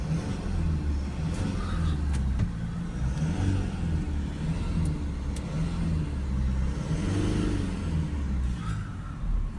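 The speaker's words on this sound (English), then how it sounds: "Let's rev the engine up." A car engine with a differential pressure sensor fault revs up in several surges, its rumbling drone rising and falling, with faint background noise and no talking.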